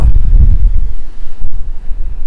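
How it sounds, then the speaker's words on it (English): Strong gusts buffet a microphone outdoors while exploring along the Highland Boundary Fault, a loud, continuous low rumble that swells and dips without any audible speech. "I don't know if you can hear me speaking, because it's so windy."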